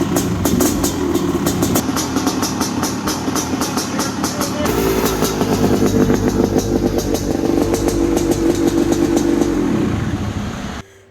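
A motorcycle engine revs hard and steady on a dyno, loud and close, with a shift in pitch partway through before it winds down at the end, and no talking.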